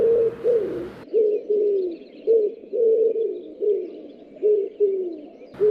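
Pigeon cooing in a steady series of soft, rounded coos, about nine phrases in quick succession, close and clear with no other sounds.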